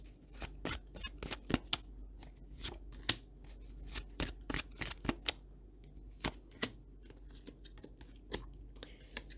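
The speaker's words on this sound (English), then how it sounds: "Let me pull a card" Tarot cards are shuffled in a quiet room, making a run of quick, crisp riffles and snaps in irregular bursts, close up, with short pauses between the flurries.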